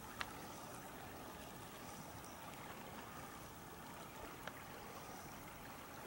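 Honey Creek's clear water flows softly in a continuous low rush and trickle, faint and steady, with a couple of tiny clicks breaking the even wash.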